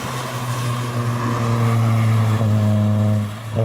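A Skoda car's engine revs at a wet car meet, a loud, close drone that swells and holds before easing off near the end.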